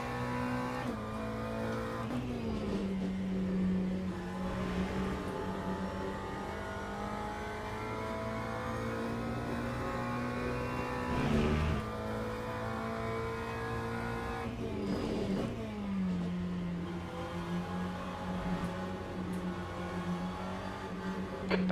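Several McLaren race cars in the Le Mans Ultimate racing game at Spa-Francorchamps, engines droning loudly and steadily with repeated shifts in pitch as they rev, brake and accelerate, filling the whole stretch without talk.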